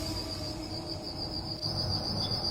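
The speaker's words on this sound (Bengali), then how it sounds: "শুধু ঝিঁঝি পোকার একটানা ডাক" Crickets chirp in a steady, unbroken high trill at night, close and continuous throughout with no voices over it.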